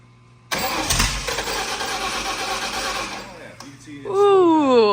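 A big block Ford engine cranks and fires up, roaring loud and close for a few seconds before settling, with voices joining near the end.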